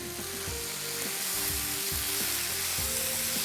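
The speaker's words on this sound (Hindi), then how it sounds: "खाली गरम कर रहे हैं और इसको मिक्स कर रहे हैं" Ready-made keema khara masala being reheated and mixed in a pan, a steady sizzle with repeated scraping and stirring strokes of a spoon throughout.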